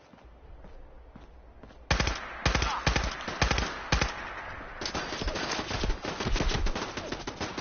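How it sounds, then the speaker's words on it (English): Gunfire in the video game Fallout 4, rapid bursts of close automatic shots that start sparse and grow into dense repeated volleys of loud cracks across the second half. "shooting, Nick. That's it. Keep going."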